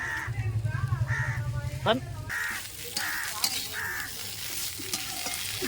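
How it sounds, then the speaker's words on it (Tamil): Leaves sautéing in a little oil in a pan for a Tamil chutney, a soft sizzle and stirring scrape running under a voice talking, with a crow cawing repeatedly in the background. "லைட்டாக எண்ணெய் போட்டு வதக்கினா போதும்"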